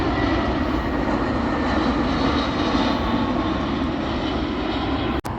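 A low-flying airplane on the flight path over Balboa Park roars loudly and continuously overhead, a broad steady engine rumble that persists throughout with a brief dropout near the end.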